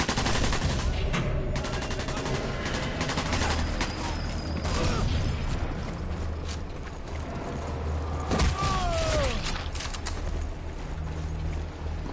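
Rapid video game gunfire: bursts of shots crackle in quick, fusillade-like volleys, fairly loud and continuous, with a voice speaking at times between the shots.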